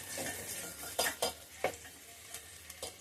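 Eggs frying in oil for egg kurma, a quiet steady sizzle with several distinct spatula scrapes and light pan knocks, close and without talk.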